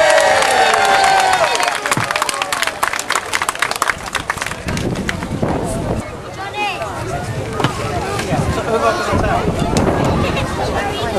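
Outdoor crowd at the Lyme Lympics street event in Lyme Regis cheering and clapping, loud and sustained with a burst of whistles early on, mixed with announcer-style talk and wind noise throughout.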